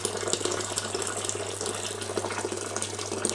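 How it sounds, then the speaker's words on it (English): Hot water pours into a home-brew beer kit fermenter, a steady gushing splash that runs unbroken at a constant level, close and alone. "All I've got to do with this now is top it up with hot water"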